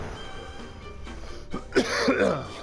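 A single cough blurted out during a yawn, close to the microphone, with a muffled, strained throaty burst that stands out against a quiet room background.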